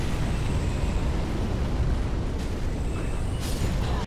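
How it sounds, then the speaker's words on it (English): Drake blasting fire in the video game Dark Souls 3, a loud, continuous roaring rush of flame that fills the whole stretch with a few sharper bursts near the end. "an easy way to get them is to have the Drake blast everything with fire"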